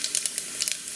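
Mustard seeds and cumin hit hot oil in a pressure cooker, a close, bright sizzle broken by quick sharp crackles and pops over about a second.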